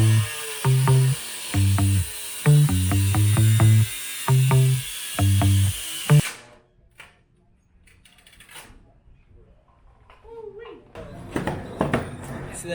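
An angle grinder cuts into a car exhaust in a rapid series of short, loud, whining bursts, then falls silent while a person talks.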